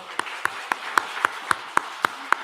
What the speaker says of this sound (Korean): 박수하겠습니다